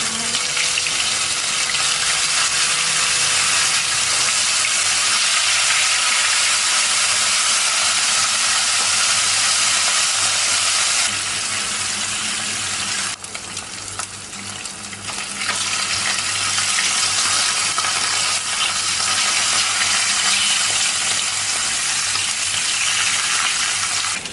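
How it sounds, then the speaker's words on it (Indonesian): Salted fish fries in hot oil in a wok, giving off a loud, steady sizzle and spatter that runs throughout without talk. "Kalau sudah panas kita akan goreng ikan asinnya terlebih dahulu ya."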